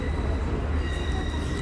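A train on the Dublin to Howth line at a station, a steady close rumble with a faint high whine of wheels and machinery, continuous and without talk.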